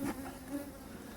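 Honeybees buzz steadily inside an opened beehive, a dense continuous hum at close range with no speech.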